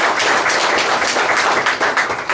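Loud, dense applause from a congregation at a Catholic Mass honoring Italian soldiers fallen in Afghanistan, held in Monte Sant'Angelo, a sustained wash of many hands clapping close by.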